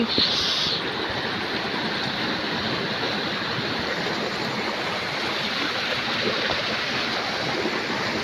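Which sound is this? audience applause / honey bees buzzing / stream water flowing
stream water flowing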